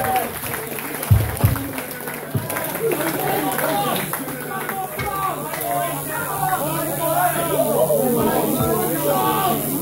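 Applause and cheering from a concert crowd at a live show in Wollongong, Australia, a dense sustained wash of clapping and chatter lasting throughout at steady loudness.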